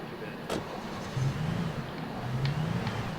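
A car in the Alan Wake video game rumbles with a steady engine hum that swells slightly, mixed with faint ambient game sounds and a few brief clicks.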